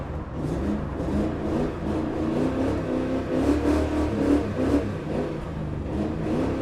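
A Nissan Skyline's engine revs and surges as its wheels spin on a frozen, icy track, the sound holding a steady mid-pitched roar with rising and falling pulses, fairly close and with no talk.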